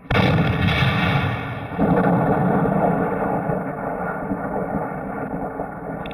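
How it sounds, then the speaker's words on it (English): Artillery gun crew firing rounds from a heavy field gun in a snowy outdoor setting, heard as a loud, sustained roar with a second heavy boom partway through, wind rumbling steadily underneath and no voices. "the gun crew shoots as many as 50 rounds before their job is done"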